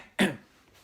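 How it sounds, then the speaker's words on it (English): A single short, polite cough or throat clear, close and fairly loud, followed by quiet. "Thorfinn coughed politely."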